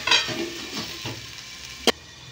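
Taro leaves with chickpeas and peanuts simmer on low heat, a faint, quiet sizzle with a few soft stirring scrapes and one sharp clink near the end as the lid goes on.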